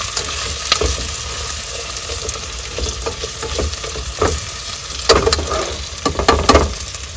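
Onions and potatoes frying in olive oil in a pan while cooking in an RV, a continuous close sizzle with intermittent stirring scrapes and clicks, no talking.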